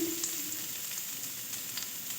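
Carrots and beans frying in hot oil and ghee with whole garam masala and bay leaves for fried rice, producing a soft, continuous sizzle with faint stirring throughout.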